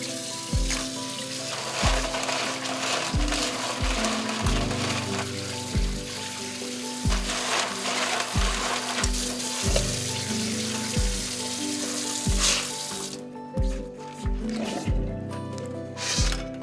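Bacon frying in a pot as the base for clam chowder, a steady close sizzle with repeated soft squishing pops and stirring, no talk.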